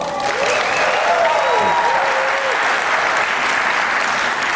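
A live convention audience at FreedomFest applauds and cheers loudly, a dense steady wash of clapping with whoops and shouts that fills the whole stretch without letup.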